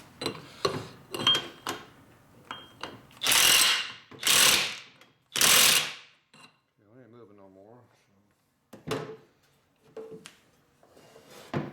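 A pneumatic impact gun tightening a nut on a 2004 Harley-Davidson FLHT Twin Cam touring motorcycle, three loud close rattling bursts in quick succession among clanks of tools, with a person speaking briefly before and after.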